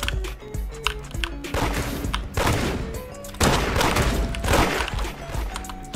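Gunfire in the Roblox game Da Hood, with a run of sharp shots and impacts over busy game sound, loud and close throughout.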